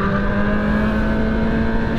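A motorcycle engine drones steadily at close range while riding, its tone holding constant and loud with no pauses and no voices.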